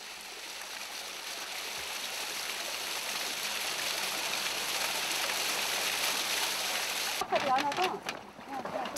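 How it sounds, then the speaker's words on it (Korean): A waterfall and rushing mountain stream in Dong-gu, Daejeon pour in a steady, dense roar close by, with voices breaking in near the end. "첫 번째 목적지인 폭포 앞에 자리를 잡는다."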